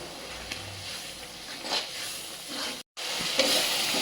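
Ground spice masala of coriander and cumin powder is stir-fried in a pan with a soft, steady sizzle. A spatula scrapes now and then, and the sound breaks off for a moment before the sizzle resumes.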